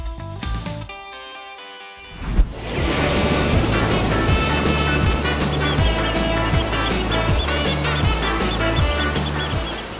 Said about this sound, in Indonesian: Hari ini Abdi sama Ulan lagi menikmati suasana pantai di daerah Sayang Heulang Garut nih.